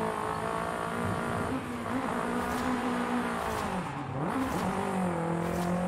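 A car engine in Forza Horizon 5 revs hard toward the redline in third gear through a banked turn, a loud continuous whine with pitch rising and dipping between shifts.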